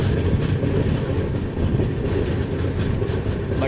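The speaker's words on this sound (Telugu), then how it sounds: "బట్ ట్రైన్ అయితే స్లో చేశాడు." Kondaveedu Express (17211) slowing on the rails past a rural station, a steady loud rumble of wagons with faint rhythmic clatter continuing throughout.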